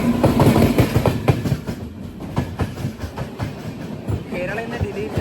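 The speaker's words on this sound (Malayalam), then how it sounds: "ഒരു ട്രെയിൻ വരുന്നുണ്ട് ന്യൂഡൽഹിയിൽ നിന്ന് തിരുവനന്തപുരം സെൻട്രലിലേക്കുള്ള കേരള എക്സ്പ്രസ്" The Kerala Express from New Delhi pulls into a Thiruvananthapuram Central platform, loud rhythmic wheel clatter and rumbling carriages passing close by, with people talking on the platform underneath.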